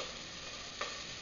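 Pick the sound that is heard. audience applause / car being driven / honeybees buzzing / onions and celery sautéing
onions and celery sautéing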